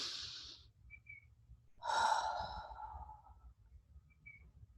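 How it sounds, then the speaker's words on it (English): A slow deep breath taken during a guided meditation, a soft airy inhale then a longer exhale, close and quiet over a low steady background hum with no talking. "Take a nice deep breath."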